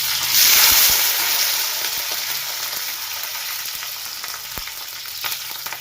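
Green chillies hiss and sizzle in hot oil after mustard seeds have popped, loud at first then settling into a steady fry with occasional pops and stirring clicks.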